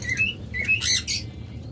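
Pet cockatiels and lovebirds, including albino and lutino cockatiels kept for sale, give several sharp squawking calls and chirps in quick succession, fairly close and with no talking.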